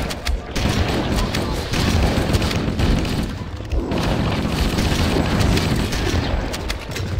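A grenade blows up in Halo: Combat Evolved, with heavy booms and bursts of gunfire in a dense, loud firefight.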